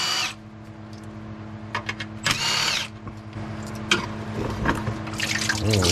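A power tool buzzes in short bursts close by as it takes out the three bolts holding a Porsche transmission filter, with small metallic clinks and a faint drip of fluid between the runs.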